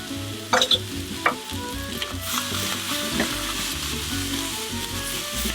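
Toasted sesame oil sizzles in a pan of Kurobuta ham fried rice, a steady loud frying hiss under a few sharp spatula clanks and scrapes at the start, no talking.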